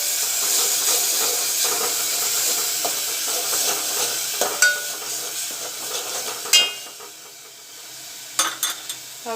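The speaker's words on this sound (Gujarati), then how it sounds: "અને એને સરસ સાતળી લઈશું." Garlic and green chili paste sizzles and sautés in hot oil with crackling cumin seeds in a pan, a steady close frying hiss with occasional sharp pops and stirring clinks, no talking.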